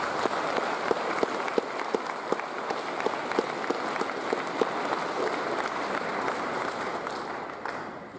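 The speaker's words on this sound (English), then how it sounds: "Please give them a round of applause" A prize-giving audience at a Year 11 ceremony applauds school staff with steady, dense clapping that fills the hall, sharp individual claps standing out, holding throughout before easing slightly at the end.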